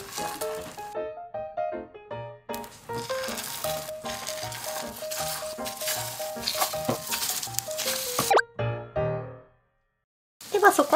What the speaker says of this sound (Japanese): こんにゃくを溶き卵にくぐらせてフライパンに並べます。